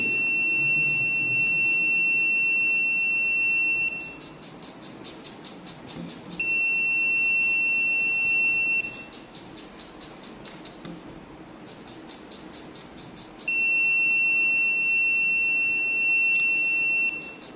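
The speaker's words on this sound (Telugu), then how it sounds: "బజర్ అనేది మోగుతుంది" A radar detector's electronic buzzer sounds in three long stretches of steady high-pitched tone, separated by quieter gaps of background hum.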